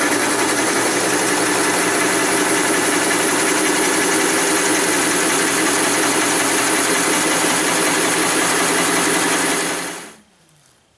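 A 1¾-inch Forstner bit bores a hole through wood, a loud steady machine whine and rumble running unbroken for about ten seconds before cutting off abruptly.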